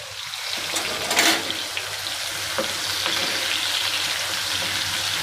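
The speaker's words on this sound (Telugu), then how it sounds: "తర్వాత ఉల్లిపాయలు అది కొంచెం వేగాలి" Onions frying in hot oil in a pan, the same oil used earlier for paneer while making palak paneer, give a steady, close hiss across the whole stretch, with one brief louder burst near the start and no talking.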